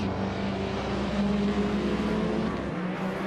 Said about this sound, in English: The Spanish Inquisition is driving a 2014 BMW